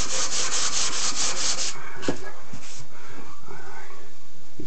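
Hand sanding a wooden surface with a sanding block to take out surface scratches, giving a close, steady rasping rub in quick strokes that fades into quieter scuffs and taps.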